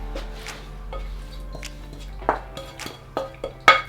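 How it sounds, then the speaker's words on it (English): Roasted peppers and onions are stirred through a pan of black bean and chipotle quesadilla filling with a utensil. The utensil scrapes and clinks against the pan in irregular knocks, close and moderately loud, with no talking. "in go the roasted peppers and onions, and then we just want to stir those through"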